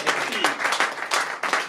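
A conference-debate audience applauds a speaker in short, uneven bursts of clapping, with voices mixing in over the brief ovation.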